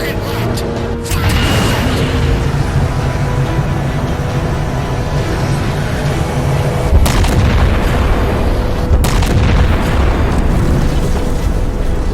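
Massive ship weapon discharging at a gravity well target in Halo 4, a deep sustained rumbling roar with booming low end that swells again partway through, lasting the whole stretch at high volume.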